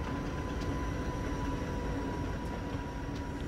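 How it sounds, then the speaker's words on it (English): A train in a simulator game on the Feather River route enters a tunnel with a steady, dense rumble and a faint tonal hum, plus a few light clicks. "Train enters the tunnel."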